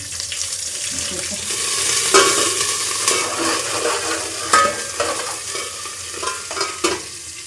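Chilies and seeds crackle and sizzle in hot oil in a pan for upma, with steady frying hiss and occasional stirring scrapes and pops, close by and fairly loud.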